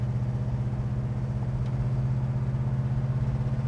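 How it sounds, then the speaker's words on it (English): A 1965 Pontiac GTO runs with a deep, steady exhaust rumble, a low throbbing idle that holds evenly and close by, with no talk over it. "Listen to the exhaust. It's got nice rumble to it, sounding amazing."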